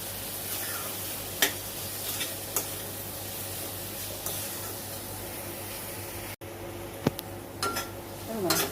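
Vegetables sauté in a pan with turmeric and salt, giving a soft, steady sizzle broken by occasional clinks and scrapes of a spoon stirring against the pan.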